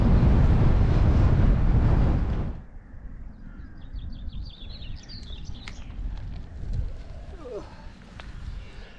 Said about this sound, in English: Still windy, but not as windy.